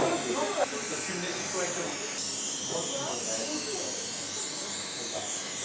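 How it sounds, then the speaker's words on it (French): A small spray gun hisses steadily as it mists egg glaze onto brioche, a close continuous spray with a voice speaking over it. "pour la brioche, on va se prendre un petit spray de dorure."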